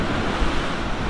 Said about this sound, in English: it's the water coming in and going over itself that makes that sound